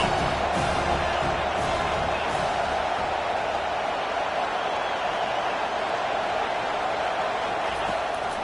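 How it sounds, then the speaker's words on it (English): Football stadium crowd roaring in support of the defense on third down, a broad sustained wash of cheering noise that holds steady and loud throughout. "Decibels rising as the crowd gets behind this defense on 3rd down."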